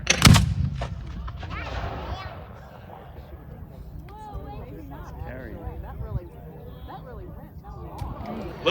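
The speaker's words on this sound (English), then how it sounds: "1st Maryland Cavalry siege mortar, make ready." A 1st Maryland Cavalry siege mortar at a Gettysburg re-enactment fires once with a sharp, loud boom near the start, followed by crowd chatter and murmuring from spectators outdoors.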